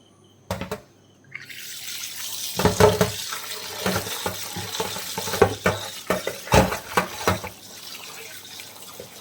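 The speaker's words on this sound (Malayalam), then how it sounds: "അങ്ങനെ എടുത്തതിന് ശേഷം നമുക്കിത് നന്നായിട്ടൊന്ന് കഴുകിയെടുക്കാം." Running tap water splashes over cut beef pieces being washed in a colander with holes for a spicy beef pickle, a steady stream broken by repeated sloshing bursts as the meat is rubbed and turned, close by and with no speech.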